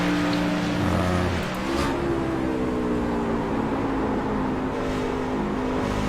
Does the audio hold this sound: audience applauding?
no